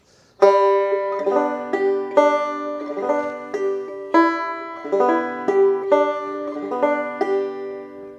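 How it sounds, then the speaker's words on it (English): Clawhammer banjo playing a steady bum-ditty strum pattern with the second string fretted, bright ringing plucks repeating in an even rhythmic cycle for several bars, close and clear with no talking. "the first 4 bum ditties are going to sound something like this"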